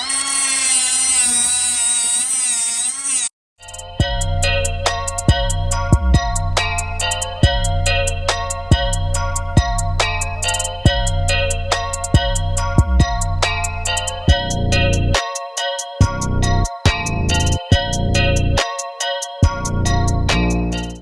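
A power drill bores a hole in a part on a Kawasaki Ninja ZX-6R, whirring steadily at close range with repeated rhythmic bursts and brief pauses, following a short rising whine at the start.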